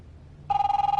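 A telephone in a PS4 video game starts ringing after a half-second of near silence, a bright electronic warble pulsing rapidly and steadily, close and clear.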